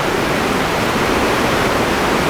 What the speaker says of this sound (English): There's a point here just below the main part of the falls